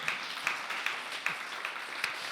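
A church congregation claps in a steady rhythm, each beat a soft, even slap carried by many hands, moderately distant.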